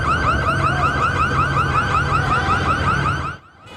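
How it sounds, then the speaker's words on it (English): An alarm at a looted jewelry store on 6th and Broadway in Los Angeles sounds in a rapid, repeating electronic warble, loud and steady for over three seconds before cutting out, with distant crowd noise underneath. "You can hear the alarms going off as a crowd of people broke into a jewelry store"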